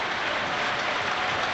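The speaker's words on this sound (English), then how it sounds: "As Clark applauds the ground as he walks off here" Stadium crowd at a Sunderland versus Sheffield Wednesday football match gives sustained, dense applause as a substituted player walks off, a loud, even wash of clapping with no talk.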